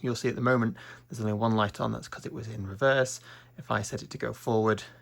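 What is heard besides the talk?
No everyday noise stands out behind the speech.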